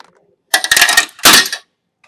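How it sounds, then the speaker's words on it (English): A metal socket wrench drops onto the ground during an exhaust installation and lands with two sharp clattering metallic bursts, loud and close, followed by silence. "Drop socket wrench."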